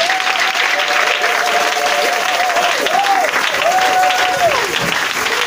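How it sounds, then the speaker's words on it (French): A congregation at an Easter seminar church service applauds loudly and steadily, with dense sustained clapping and a voice ringing out over it throughout. "Acclamez ce soir."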